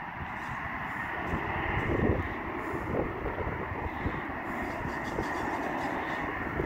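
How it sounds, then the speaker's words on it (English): A distant, steady roar of Marine F-5 training jet engines spooling up, rumbling under wind noise outdoors as rain begins. "And you can hear them powering up their engines."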